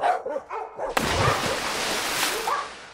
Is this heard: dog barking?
yes